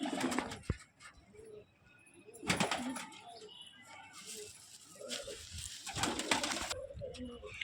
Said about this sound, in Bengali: কালপোড়া পায়রা আছে এটা